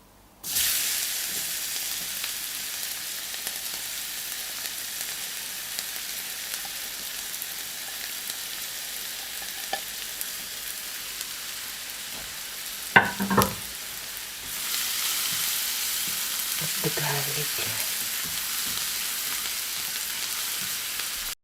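Garlic fries in spicy oil with a steady, loud sizzling hiss throughout, broken by a couple of brief clinks of a utensil, and the sizzle swells louder near the end.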